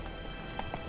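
A horse gallops in the video game Witcher 3, with a quick run of hoofbeats over a brief, continuous outdoor background.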